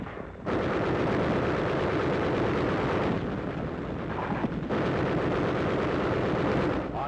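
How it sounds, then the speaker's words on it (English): Machine guns and other gunfire rattle through a WWII battle on Okinawa near Zebra Hill, a loud, continuous wash of shots and blasts that barely lets up. "Machine guns cover a section of the advance as troops work their way to the top of a nearby ridge flanking Zebra Hill."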